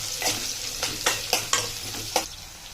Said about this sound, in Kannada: ಈರುಳ್ಳಿ ಚೆಂದ ಫ್ರೈ ಆಗಲಿ.